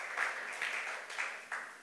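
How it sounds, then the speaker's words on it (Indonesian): Church congregation clapping for Jesus during Sunday worship, a steady wash of many hands at moderate distance, with no voices over it. "Berikan tepuk tangan bagi Tuhan Yesus yang paling meriah."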